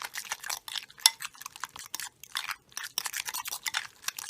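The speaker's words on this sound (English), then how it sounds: "And mix that all up." A spoon stirring sweet potato dip with garlic powder, salt, pepper and lemon juice in a bowl, a run of quick scraping and clinking strokes, close and fairly quiet, coming in uneven bursts.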